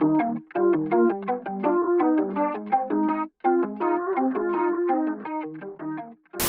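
A Mandarin song, a sung melody with steady accompaniment, phrases separated by short pauses, clear and prominent throughout.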